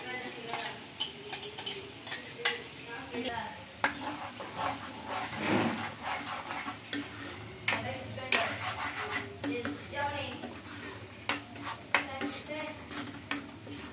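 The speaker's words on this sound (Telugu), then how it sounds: "ఇది బాగా పచ్చి వాసన పోయే వరకు బాగా ఫ్రై చేసుకోవాలి, ఒక 5 మినిట్స్." Spice paste frying in oil for stuffed brinjal curry, a soft sizzle beneath frequent clinks and scrapes of a spoon stirring against the pan.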